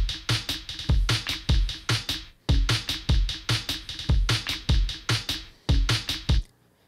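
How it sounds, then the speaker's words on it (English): A soloed electronic drum pattern of punchy kick hits and bright snare hits repeats in a steady chugging rhythm for several bars, loud and close, then stops. "this kick and snare pattern"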